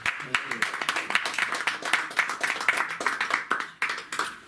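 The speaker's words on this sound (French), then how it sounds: "Et on va les applaudir quand même aussi." A small audience at a French-language event in Mons on racism and genocide claps in a lively, uneven patter of individual hands, fairly close and clearly separate strikes throughout.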